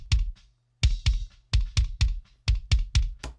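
Kick and snare drum mix run through Saturn distortion, a steady groove of punchy, close hits with a crunchy, bright top end, with a short gap near the start and no voices.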